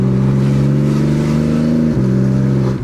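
A sports car engine in Sport Plus mode revs loud and close, holding a steady growling drone for about two seconds before a brief dip, then droning on again.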